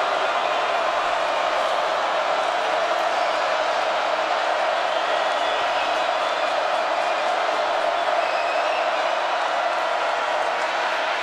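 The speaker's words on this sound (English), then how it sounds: "here comes that crowd to get behind the Bearcats" A football stadium crowd at the 2015 Division II championship between Northwest Missouri State and Shepherd roars to rally behind the Bearcats, a steady, loud wash of cheering that holds without a break.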